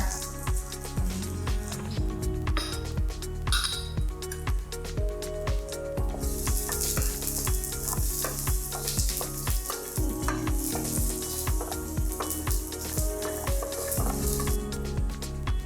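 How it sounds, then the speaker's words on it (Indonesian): Continuous loud sizzling of spices, ending with coriander, frying in a hot wok, with steady scraping and stirring, bursts of brighter hissing midway, no voices. "Goreng sampai harum."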